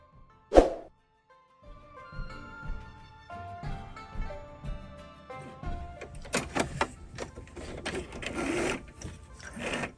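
Sewing machine stitching a drawstring bag: a sharp thump at the start, then a quiet pause, followed by intermittent whirring stitching bursts that grow busier and louder toward the end, with no talk.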